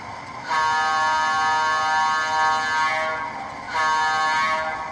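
Horn of a Rapido HO scale EMD E9A model locomotive in Illinois Central livery, sounding in three close, steady blasts of a multi-tone air-horn chord with short gaps between them.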